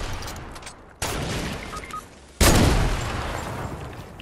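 Gunfire in a shooter video game, two sudden loud blasts, each followed by a sustained roar and rattle that slowly decays.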